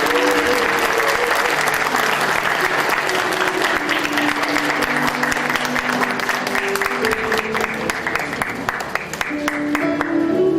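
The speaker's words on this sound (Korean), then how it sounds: "힘찬 박수 부탁드리겠습니다" Sustained applause from a seated crowd at a Wonkwang University architecture department 40th-anniversary alumni ceremony during a plaque presentation, with steady dense clapping and soft background music beneath it throughout.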